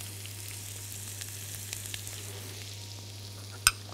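A small onion with garlic and ginger sautéing in a pan, a faint, even sizzle over a steady low hum, with one sharp clink near the end.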